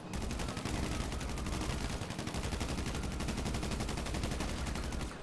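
Sustained rapid automatic gunfire during a GTA V Fleeca Job heist, a dense, steady stream of shots that continues evenly for the whole stretch at moderate loudness.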